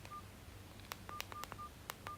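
A Y2K-style mini flip phone sounds a string of short electronic beeps, about eight quick tones spaced irregularly over two seconds, faint and close with a low hum beneath.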